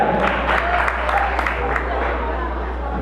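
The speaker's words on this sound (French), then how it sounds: "Applaudissez s'il vous plaît." An audience applauding at a gospel concert, dense steady clapping mixed with crowd noise and a low hum throughout.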